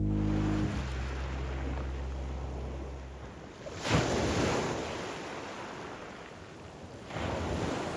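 Sea waves surging and breaking on a shore at the far northern edge of Europe, a steady broadband wash with two louder crashes, mixed with wind buffeting the microphone and low rumble early on.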